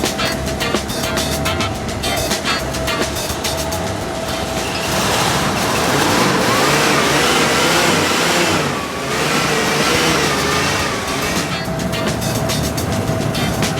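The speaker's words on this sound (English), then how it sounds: "Good engine." An old car's engine revs loudly and steadily, rising into a sustained roar in the middle before easing slightly and holding, close by with no talk over it.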